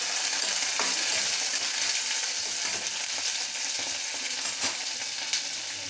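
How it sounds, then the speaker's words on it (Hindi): Onions frying in a pan with curry leaves for an arhar matar dal tadka give a steady, close, dense sizzle with faint stirring clicks throughout, no voices. "प्याज भून चुका है,"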